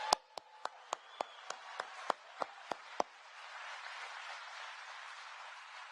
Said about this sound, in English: I think we should give another round of applause for the President to come out here to Poughkeepsie